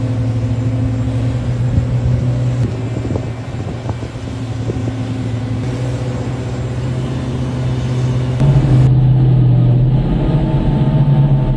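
A Cummins QSKTA50-CE diesel engine of about 1,300 horsepower drives a giant mining backhoe excavator, a loud steady low rumble with wind buffeting that swells louder near the end.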